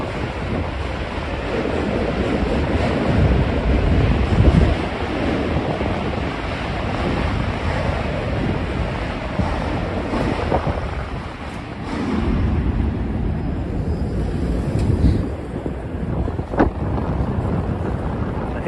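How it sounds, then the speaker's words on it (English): Strong wind in Midtown Manhattan, New York City, buffets the microphone in constant gusting rumbles, swelling and easing over time, loud and close, with no speech. "I could already tell because it's really windy right now."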